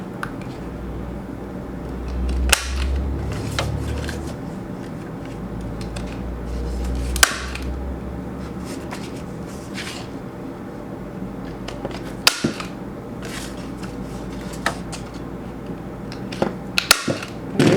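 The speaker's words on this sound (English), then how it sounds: "All right, so now I just need to round these corners." A hand corner rounder punching through the corners of small handmade notebooks, giving a few sharp, isolated clacks spread over a quiet, rustly background with soft handling noises between punches.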